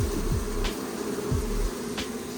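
Bees buzz around an opened hive in a close, continuous drone, several insects whizzing past the microphone in quick passes.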